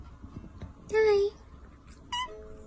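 Two short high-pitched cat meows, a sharp one followed by a shorter second, playing from a watched video at low level over faint room noise.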